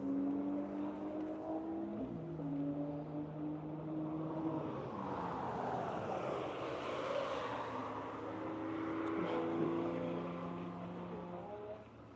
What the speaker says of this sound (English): Next we should see the Supra.